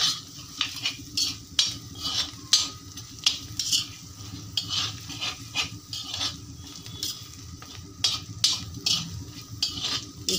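Chili powder, salt and turmeric frying in oil in a pot for goat leg soup, a steady close sizzle broken by repeated sharp scrapes and clinks of a spoon stirring against the metal.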